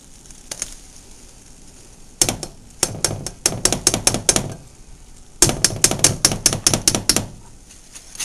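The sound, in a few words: whisking flour and margarine for mac and cheese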